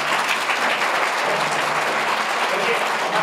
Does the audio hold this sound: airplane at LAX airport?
no